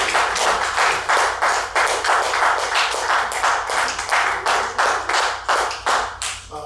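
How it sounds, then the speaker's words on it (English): An audience at a pre-Juneteenth celebration poetry event applauds, with close, even rhythmic clapping that holds steady throughout and tapers slightly at the end. "Please give a round of applause for yourselves."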